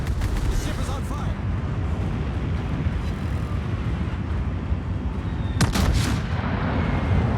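Secondary guns on a warship in a naval combat video game firing amid a constant low engine and sea rumble, with a loud burst of shots near the end while a voice talks over it.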